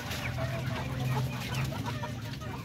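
A large darag native rooster, weighing over four kilos, clucks in short repeated bursts amid a busy farmyard background of other fowl.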